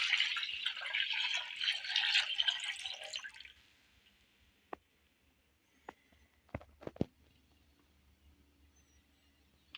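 Milk, 1 kg, poured into a hot kadhai for cake halwa, a close broadband rushing splash for about three seconds, then quiet with a few scattered drips and clinks.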